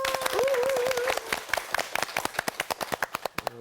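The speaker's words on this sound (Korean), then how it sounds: "우리 환영하는 박수 한번." Bible-study class clapping to welcome a new student: a small group claps briskly for a few seconds, a voice briefly overlapping at the start, then the claps thin out into a handful of separate, sharp hits.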